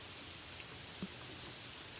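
Gentle, steady rain ambience for a bedtime sleep story, a soft continuous hiss of falling drops at even, low volume with no voices.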